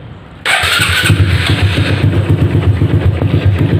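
Motorcycle with a Yoshimura exhaust and the silencer removed, started and then idling: a loud, steady, throaty burble with an uneven pulsing rhythm, close by, no talking.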